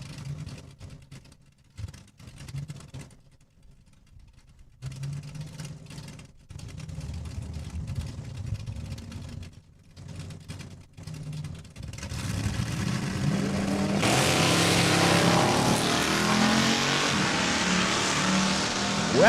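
Drag racing cars at a raceway accelerating down the quarter mile, engines rumbling at a distance, then a loud, sustained roar of hard acceleration through the gears building in the second half.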